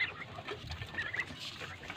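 Ducks and other backyard poultry being fed in the morning after being penned without food or water, giving a busy, moderately close mix of clucks, quacks and shuffling with no one talking.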